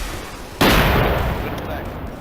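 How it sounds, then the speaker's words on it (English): A rocket fired in the Arma 3 OPTRE mod, a sudden loud launch blast after a quieter stretch, followed by a sustained rushing roar that slowly fades. "Firing rocket."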